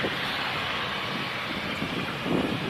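Propeller aircraft at London City Airport, a steady distant engine drone mixed with wind noise, fairly faint, rising slightly near the end.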